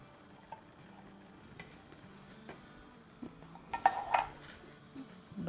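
Lauki kheer stirred in a pot, with faint soft scraping and light metallic ticks of a spoon against the pot. A few louder clinks come near the end in a quiet kitchen.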